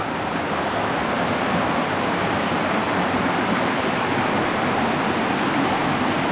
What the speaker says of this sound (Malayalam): ഉണ്ട്, ഇതിനകത്തൂടെ വെള്ളം ഒഴുകുന്നുണ്ട് കേട്ടോ.